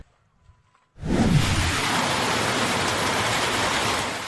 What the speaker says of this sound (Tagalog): Naranasan din ang malakas na ulan sa ilang bahagi ng Zamboanga City.